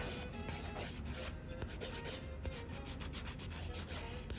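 A nail file rasps against builder gel nails in quick, even back-and-forth strokes, close and dry, with a steady scratchy rhythm and no voices.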